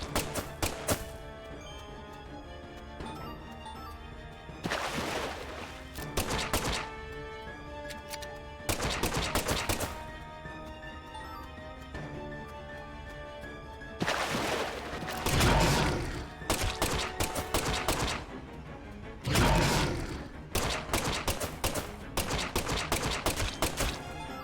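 Gunfire in Deadly Premonition 2 on Switch, with loud clusters of rapid shots recurring every few seconds between quieter stretches, over steady background game music.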